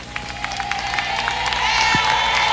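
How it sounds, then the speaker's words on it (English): A large outdoor crowd cheers and claps for the long-awaited pontiff, a dense continuous roar with scattered whistles and shouts swelling slightly toward the end. "the crowd is now cheering vociferously, cheering the pontiff who has been awaited for so long"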